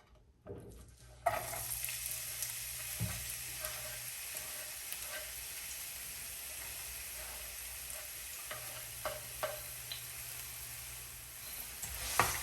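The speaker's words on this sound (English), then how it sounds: "Now I'm gonna go ahead and add my onion and garlic." Chopped onion and garlic sauté in a hot pan for Spanish rice, a steady close sizzle that starts abruptly and carries on evenly, with occasional soft stirring scrapes.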